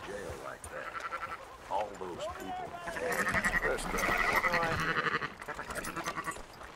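Sheep bleat repeatedly in Red Dead Redemption 2 while herding, several wavering calls overlapping in the middle, mixed with game dialogue and voices.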